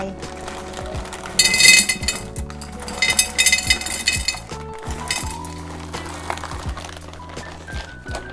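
Fresh ume plums dropped in layers into a large glass jar, giving bright clinks and knocks in uneven bursts, close and fairly loud, with a few soft handling sounds between them.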